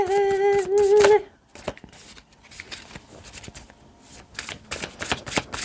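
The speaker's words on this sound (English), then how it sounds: "sometimes the cards, they just be needing to be shuffled" Tarot cards are shuffled in dense bursts of rapid riffling and flicking, moderately loud, continuing through the clip after a brief musical tone at the start.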